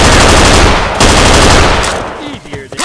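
Rapid, loud rifle fire from the video game Left 4 Dead 2 bursts in a dense automatic volley, then thins into a few scattered shots near the end.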